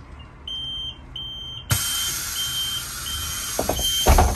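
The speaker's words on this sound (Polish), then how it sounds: "Ja osobiście chwalę ten tryb sygnału dźwiękowego podczas całego trwania całego procesu zamykania drzwi" Door-closing warning beeps on a Solaris Urbino 9LE Electric bus with BODE doors: a steady repeating electronic tone sounds close by, then gives way to the hiss and thud of the doors closing.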